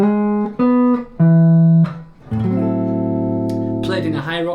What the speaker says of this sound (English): the melody example which I'm going to use here is the melody from Black Orpheus